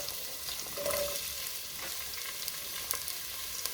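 Onions and garlic sizzle in a hot pan for a vegetarian peas and potato stew, a steady close crackle broken by a few sharp stirring clicks, with no talking.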